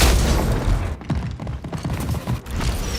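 Rapid bursts of video game gunfire crackle and boom in a dense, sustained volley, loud and continuous with brief mechanical clicks between shots and no talking.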